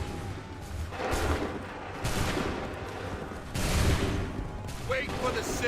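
Soldiers fire musket volleys in the Assassin's Creed 3 video game, a series of loud crackling fusillades in bursts, with shouted commands between them.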